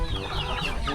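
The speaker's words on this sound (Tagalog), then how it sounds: "Ako pinagpapakain po ng manok." Chickens clucking at feeding time by a fish pond in Cainta, Rizal, a close, busy burst of overlapping clucks and squawks.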